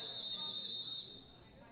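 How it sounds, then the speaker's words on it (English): A referee's whistle at a boys high school lacrosse game, one sustained shrill blast lasting about a second before fading, with faint crowd and field noise behind it. "Whistle."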